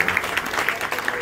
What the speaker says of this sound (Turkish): Mert Bey için bir alkış rica ediyorum.